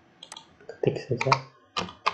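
Fingers type on a computer keyboard, producing a loose series of crisp key clicks in short irregular bursts, close by, with a voice talking over them.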